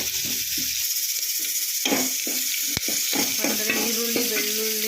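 Onion, garlic, cumin and curry leaves frying in hot oil, a steady close sizzle with scattered stirring scrapes and pops throughout, no voices.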